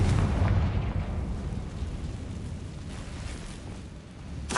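Confringo blasting spell in Hogwarts Legacy, a loud, deep explosive boom that rumbles and slowly fades, with another sharp burst at the end.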